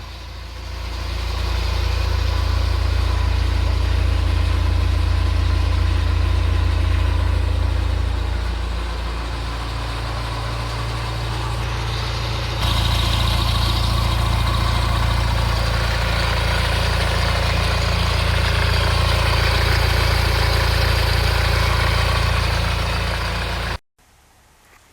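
A Honda CR-V 2.2 diesel engine idles steadily and close for over twenty seconds with a low, dense rumble and a rattling timing chain, the tone shifting slightly midway before it cuts off near the end.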